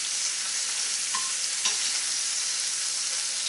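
Shrimp frying with onions in seasoning in a hot pan, a steady close sizzle with a couple of faint clinks of stirring partway through.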